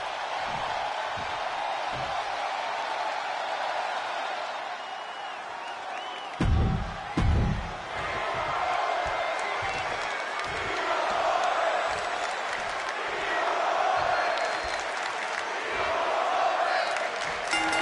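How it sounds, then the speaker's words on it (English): Roaring arena crowd in a WWE wrestling video game, a steady loud swell of cheering and shouting with a few heavy thumps partway through. "Listen to this crowd"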